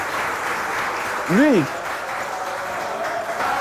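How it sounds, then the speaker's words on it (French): A live audience applauds at a stage show, steady dense clapping that continues evenly throughout at moderate loudness, with a brief vocal whoop rising and falling over it midway. "Merci d'applaudir pour mon petit peintre bâtiment."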